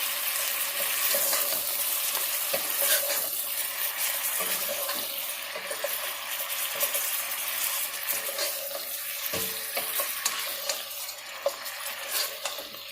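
Ingredients fry in olive oil for chicken noodle soup, a steady close sizzle with light stirring clatter and a brief scrape, with no talking.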